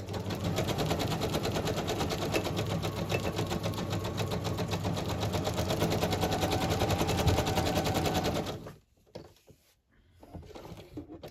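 A sewing machine runs continuously for about eight seconds at a small zigzag stitch on a collage page, with a rapid rhythmic whirr, then stops and gives way to light handling sounds.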